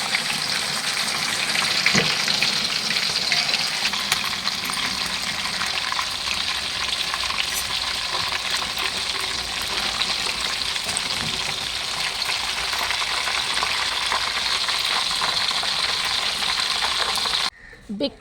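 A big fish frying in a kadai pan, a loud, continuous oily sizzle and crackle that holds steady for many seconds before cutting off abruptly near the end.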